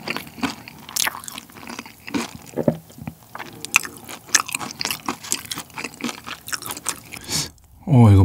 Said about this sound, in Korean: 밀크튀김을 한번 먹어보도록 하겠습니다